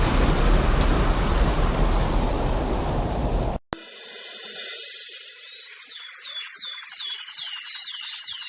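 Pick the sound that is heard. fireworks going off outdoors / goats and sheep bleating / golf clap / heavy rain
heavy rain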